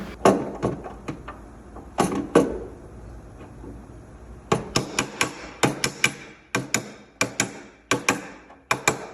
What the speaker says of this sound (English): What I'm going to use here is my dolly and my flip, or some people call it slapper.